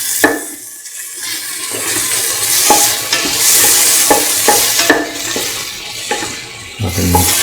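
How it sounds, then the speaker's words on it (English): Onions sauté with a steady sizzle in a pan while a utensil stirs and scrapes through them at intervals, close and continuous, with no talk. "Keep on sauteing."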